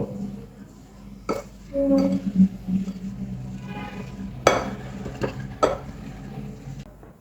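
Egg, salt, turmeric and flour are mixed in a bowl for paratha dough: a spoon clinks and scrapes against the dish in scattered sharp taps, with soft stirring and quiet background hum.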